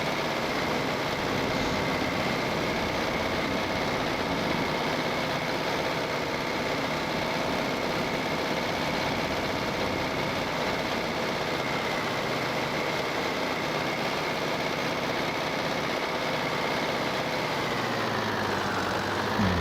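A farm vehicle engine drones steadily in Farming Simulator 22, a constant, close mechanical hum with low rumble that holds unchanged throughout and shifts slightly near the end.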